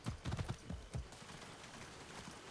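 Horse hooves clip-clopping in the Far Cry 6 game, a quick cluster of close hoofbeats at first that thins out into a faint background rumble.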